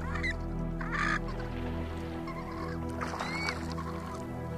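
An Andean gull gives harsh honking calls at a high-altitude lagoon, a few short loud bursts over a steady low droning background.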